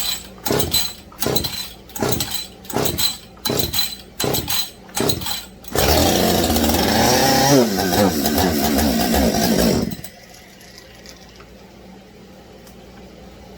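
A Husqvarna 562 XP chainsaw with a new shortblock gets about eight quick, rhythmic pull-cord yanks, then catches and runs loudly and raggedly for around four seconds before cutting out to near quiet.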